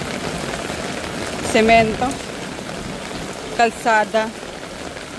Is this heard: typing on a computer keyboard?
no